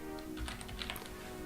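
Quiet typing on a computer keyboard, a short run of soft key taps while a freelance invoice is filled in on a website, steady low background hum, no talk.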